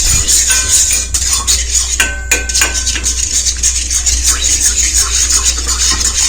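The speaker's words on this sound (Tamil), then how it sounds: "நல்லா கலக்கி விடுங்க" A metal utensil scrapes and clinks against a pan while stirring tea decoction, steady and close, over a low hum of background noise.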